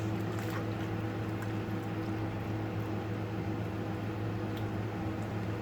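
A pot of soupy kueh teow broth with vegetables heats toward a boil, giving a steady, continuous low rumble and bubbling hiss that stays even throughout, with no talking.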